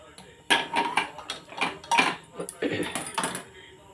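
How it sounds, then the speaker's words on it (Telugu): A spoon scrapes and clinks against metal while chickpea-flour curry is scooped from a pot into a bowl, giving a run of sharp, close taps and scrapes with faint talk underneath. "కూర మనం దింపేసుకోండి గిన్నెలో తీసేస్తున్నాను"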